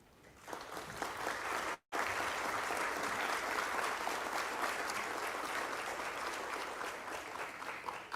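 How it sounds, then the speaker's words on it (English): Graduation ceremony crowd at a university commencement giving a sustained round of applause, dense even clapping that swells quickly and holds loudly with a brief cut partway through. "Let's give all of them a big round of applause."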